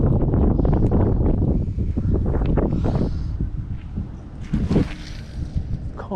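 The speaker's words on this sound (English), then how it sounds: "let's wait for this wind to die down a little bit." Steady wind buffets the microphone outdoors during a bass fishing outing with a crankbait, a loud continuous rushing roar with gusty swells and faint water or rustling noise, no talking.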